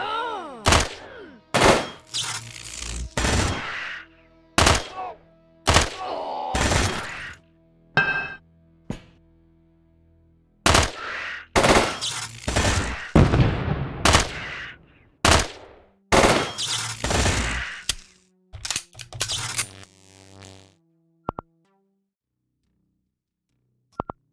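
Bursts of turret gunfire from the video game Quasimorph crack out in irregular clusters, loud and close, with short gaps and a few faint clinks near the end.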